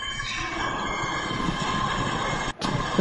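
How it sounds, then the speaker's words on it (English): A freight train starts moving, a steady mechanical rumble and rolling drone with a brief cutout near the end. "Uh-oh, the train's going."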